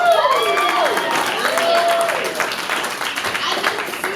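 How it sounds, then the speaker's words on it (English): Comedy club audience at a live stand-up show breaks into brief applause and cheers, moderately loud and steady for a few seconds with laughter-like crowd noise mixed in. "Round of applause"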